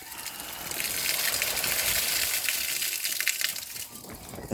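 Rainwater gushes and splashes from a house gutter in a steady, rushing roar, close and fairly loud, with scattered spattering transients throughout and no talking.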